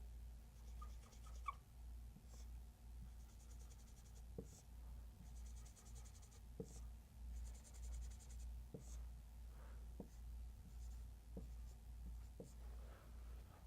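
A pen or pencil writes quarter notes on music paper, soft close scratching strokes in short repeated bursts, with faint ticking taps between them over a low background hum.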